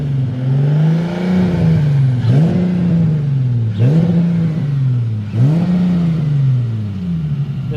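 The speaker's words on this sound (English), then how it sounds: "This car was hella misfiring." A misfiring Nissan 350Z engine revs four times in a row, each rise and fall loud and close, with a rough, uneven tone and no talking.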